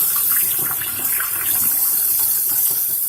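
Water runs steadily from a kitchen sink tap while raw chicken is rinsed, a continuous close hiss and splatter into the basin with no voices over it.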